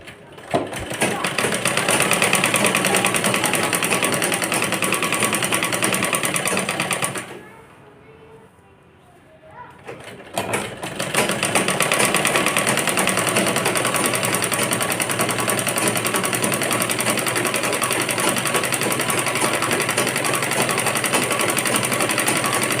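A sewing machine stitches around the flared hem of a girl's skirt, running in a loud, steady, fast whir that stops for a few seconds and then resumes, with someone talking over it.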